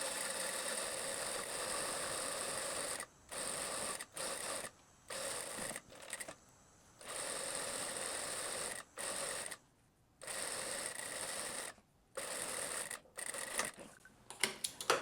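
A sewing machine runs in bursts while stitching a finely folded handkerchief hem on a blouse, with steady mechanical whirring broken by short pauses between runs and no talking.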